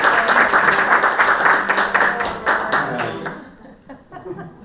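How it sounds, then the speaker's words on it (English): Broad applause from a conference audience at a sales session, dense overlapping clapping that continues steadily and then thins out and fades near the end, with no talking over it. "Give Paula a round of applause."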